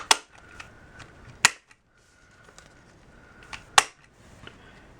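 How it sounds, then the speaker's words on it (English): A corner chomper punch set to a half-inch radius rounds paper card corners, giving four sharp, loud clicks spread across the stretch, with a quiet rustle of paper between them and no voices. "I'm going to take my corner chomper and I'm going to use the 1/2 inch setting and round the corners"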